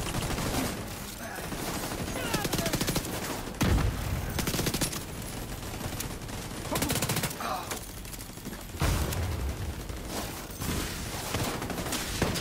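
Gunfire and a frag grenade blast in The Division 2 video game: dense, sustained automatic fusillades with sharp bursts and heavy explosive thumps, loud and continuous throughout the battle.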